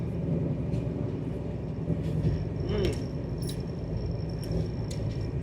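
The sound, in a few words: train running past Lonavala station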